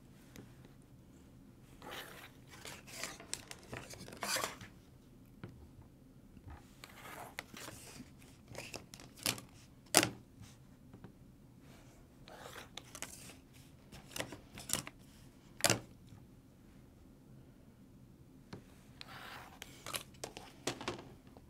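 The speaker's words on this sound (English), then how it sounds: "Let's give her a little trim now to clean up these little edges and threads there going on." Scissors trim loose edges and threads from a quilt block, a series of quiet close snips and crisp cuts at irregular intervals with soft fabric rustling between them.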